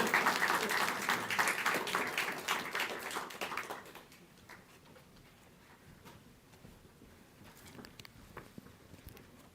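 Audience clapping for a new media capstone presentation, brisk and fairly close for about four seconds before dying down to a few scattered claps, taps and room shuffling.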